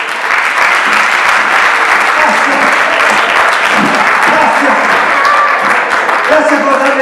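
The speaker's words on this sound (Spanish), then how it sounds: "un aplauso para..." Audience at an inclusion awards gala with comedy applauds loudly and continuously, with cheering and voices mixed into the clapping.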